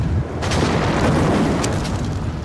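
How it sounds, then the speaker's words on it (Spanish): Underwater explosion of the Russian nuclear submarine Kursk, a loud deep boom that holds as a broad, sustained rumble with a few sharper bursts through it. "La explosión fue muy grande,"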